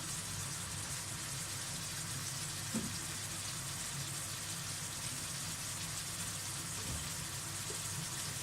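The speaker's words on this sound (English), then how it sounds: "I'm going to put on the rice water." Tap water gushing steadily into a cooking pot for rice, a continuous broad hiss of filling water heard close, with a couple of faint knocks and no voices.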